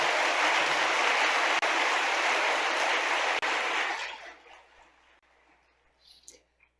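A lecture audience at a spiritist congress in Uberlândia claps in a dense, loud ovation for about four seconds, then the applause thins out and fades, leaving scattered faint sounds.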